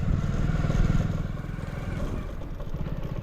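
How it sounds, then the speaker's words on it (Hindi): A 100cc Hero Splendor motorcycle, running on fresh engine oil, rides on a mountain road trip from Manali toward Leh Ladakh. Its engine gives a steady, close low thrum. "बाइक भाई एक नंबर चल रही है भाई"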